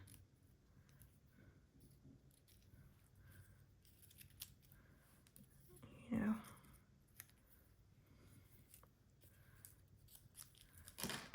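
Scissors cut through patterned paper in a quiet craft setting, with soft scattered snips and one clear, louder crunching cut in the middle. A voice speaks faintly now and then.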